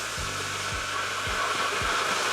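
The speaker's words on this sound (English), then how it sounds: "We're gonna diffuse this hair with my pattern blow dryer." A Pattern blow dryer fitted with a diffuser roars with a loud, steady airflow hiss while drying natural hair, and a faint low rhythmic pulsing runs underneath it.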